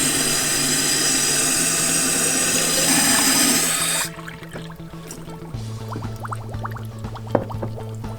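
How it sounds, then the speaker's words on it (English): Water runs steadily from a tap into jars holding soil samples, a strong rushing flow for about four seconds, then it cuts off, leaving a low hum with faint clinks and handling. "fill these jars almost all the way up with water"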